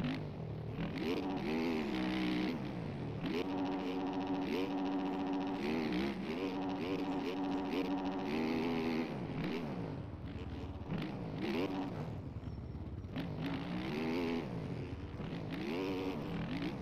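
A motorcycle engine revs up and down while being ridden, with continuous loud rising and falling throttle swells and no pauses.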